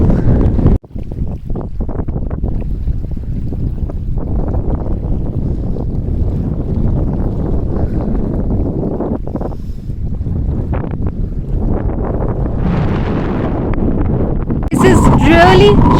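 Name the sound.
strong wind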